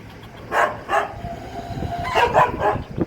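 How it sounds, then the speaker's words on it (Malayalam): Several dog barks, a couple early and a cluster later, over a steady low rumble of background noise. "ഇതാ രണ്ട് നായ്ക്കളുണ്ട് അവിടെ"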